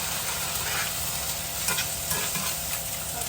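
Frozen green beans cooking down in a pan, a steady soft sizzle and crackle with occasional faint stirring scrapes, close and continuous with no voices.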